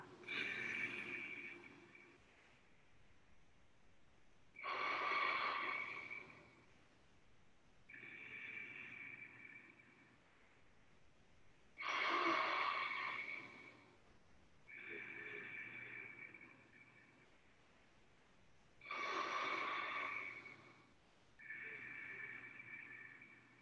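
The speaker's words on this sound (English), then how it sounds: "taking the breath in and letting the breath out" Slow qigong breathing exercise: three cycles of a strong, airy inhale followed by a softer, longer exhale, close and steady with quiet pauses between breaths.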